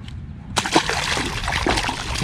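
A released bass slaps and splashes in a stained-water pond, a sudden close splash followed by sloshing and trickling water, with faint voices in the background.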